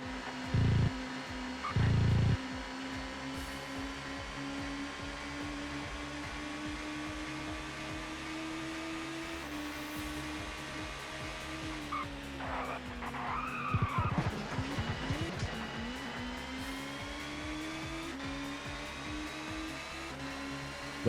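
A touring race car in the ToCA Touring Car Championship video game, racing at Knockhill, drones with a steady engine whine, then its tyres skid and screech as it is thrown into a corner, followed by engine revs climbing again.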